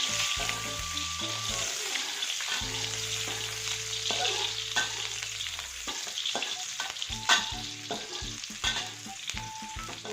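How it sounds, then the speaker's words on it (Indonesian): Sliced shallots sautéing in hot oil in a pan for an Acehnese fish curry, with a steady crackling sizzle throughout, occasional stirring scrapes and clinks, and a low tonal hum in the background. "masukkan bawang yang sudah dirajang. Tumis dulu sampai harum."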